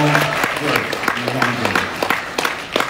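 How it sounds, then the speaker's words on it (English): An audience at an anniversary party applauds for the team, a steady patter of clapping that runs under a speaker's voice throughout. "let's give a round of applause for the team"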